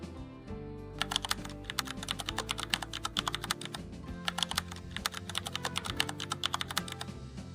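Steady, rapid typing on a computer keyboard, close and clear, with dense key clicks running continuously over a low background hum.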